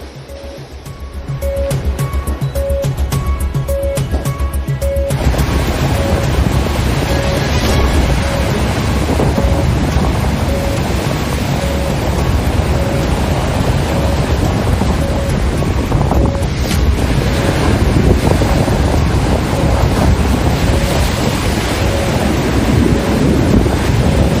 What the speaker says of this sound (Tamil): அந்த கடல் எந்த அளவுக்கு கொந்தளிப்பாக இருக்குது.